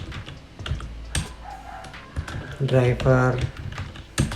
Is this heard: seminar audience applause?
no